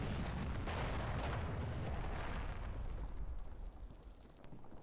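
Artillery volleys land in the Cold War wargame Combat Mission, a dense rumbling roar of explosions that dies away into softer scattered crackles and thuds.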